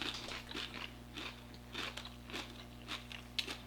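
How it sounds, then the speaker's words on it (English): Bites into a crunchy keto chocolate protein cereal treat, a quiet series of crisp crunches repeating at a steady chewing rhythm, close and alone. "protein cereal is a lot crunchier than a Rice Krispie"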